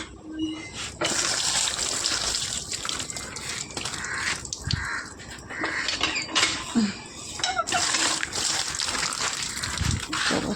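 Something is washed by hand under running water, with a steady splashing rush and clinks of metal utensils and pots throughout. The sound is close and busy and continues without pause.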